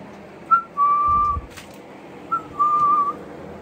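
Two thin, clear whistled notes from a small bird, each rising briefly then holding, separated by a short pause in a quiet room.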